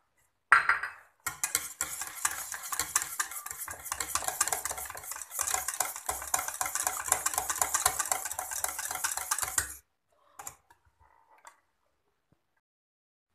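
A whisk beats butter into thick lemon pastry cream in a pot, a fast, close scraping and clicking rhythm that runs for several seconds, stops abruptly, then a few faint knocks follow.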